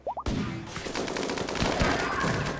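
Gunfire in RimWorld during a colony raid fight, a quick pair of chirpy shots followed by dense, sustained rattling bursts of fire at moderate loudness.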